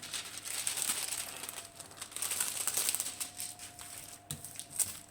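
Paper rustles and crinkles close by in repeated bursts, crisp and fairly loud, with no voices.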